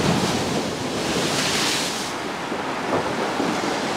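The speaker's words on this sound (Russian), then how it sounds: "Вот оно море." Storm-driven sea surf rolls steadily onto the pebble shore at Alushta in Crimea, a loud continuous wash of breaking waves with gusting wind buffeting the microphone throughout.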